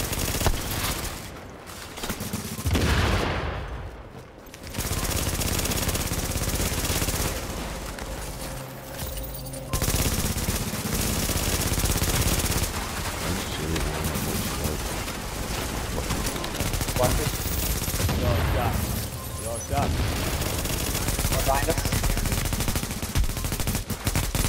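Turret and machine gunfire in a shooter video game rattles in dense, sustained bursts with only brief gaps, loud and close throughout.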